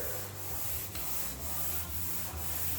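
Steady abrasive sanding on a hotrod or muscle car body panel, a continuous rasping scrub with rhythmic strokes roughly every half second, close and loud with no talking.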